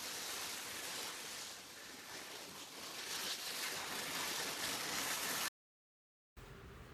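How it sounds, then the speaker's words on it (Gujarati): Torrential downpour with large drops falling, a dense, unbroken roaring hiss that stays loud and steady, then cuts out abruptly for a moment before resuming faintly. "મુસળધાર વરસાદ વરસે"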